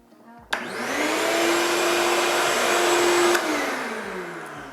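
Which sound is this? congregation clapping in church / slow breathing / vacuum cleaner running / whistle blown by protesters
vacuum cleaner running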